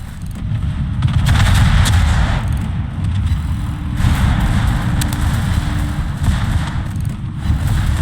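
Naval video game warship guns fire salvos as deep, rumbling booms that swell and fade over a continuous low engine and sea drone. The sound is heavy and muffled, with no clear voices.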